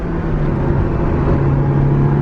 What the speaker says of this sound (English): The Italian V8 is all about that high-pitched, high RPM kind of